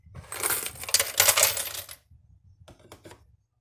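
Coins pour through a smart coin counter for a dense two-second metallic clatter, then stop, followed by a few sparse clinks as the last coins drop from the hopper; no voices.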